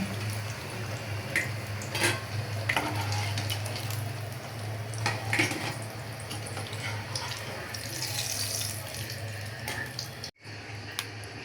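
Eggplant slices frying in oil in a pan, a steady close hiss and sizzle with small crackles that continue throughout, briefly cut just before the end.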